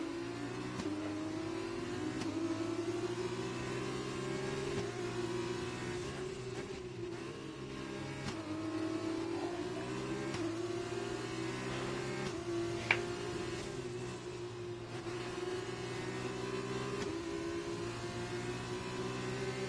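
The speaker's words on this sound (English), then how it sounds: "So this is a race on track right now between Jetsy and Airborne for the race win." Race cars circle the track in an F1-style esports video game race, a continuous droning engine whine with shifting pitch as the cars rev, steady and moderately faint throughout.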